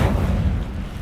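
Incendio fire spell cast in Hogwarts Legacy, a heavy, booming whoosh with a deep low rumble that hits loud at once and holds steady through the short moment.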